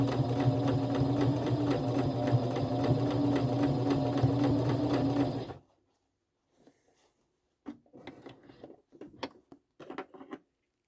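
A sewing machine stitches an interface-lined turned appliqué, running in a loud, fast, steady whir for several seconds, then stopping, followed by quiet scattered handling clicks and fabric shifting.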